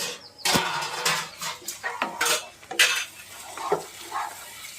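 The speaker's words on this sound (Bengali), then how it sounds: "ধনে পাতাটা দিয়ে আবারও সুন্দরভাবে একটু নাড়াচাড়া করে নিতে হবে।" A pan of lote fish being stirred with freshly chopped coriander, producing a run of close metallic scrapes and clinks from the spatula against the pan, with a faint sizzle underneath.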